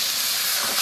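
Sharp, loud hiss of steam as water hits a hot pan of frying cabbage curry, a dense continuous sizzle that swells slightly toward the end.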